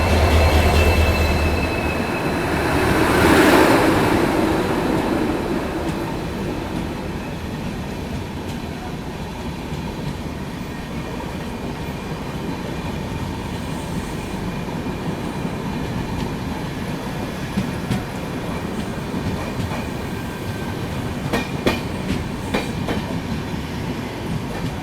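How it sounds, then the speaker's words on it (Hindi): The Agartala LTT Mumbai AC Express rolls slowly along a loop line, giving a steady loud rumble with rhythmic wheel clicks and a few squeals of metal, heard from on board with no talking. "लूप से निकाला जा रहा है इसलिए काफ़ी स्लो होकर निकल रही है।"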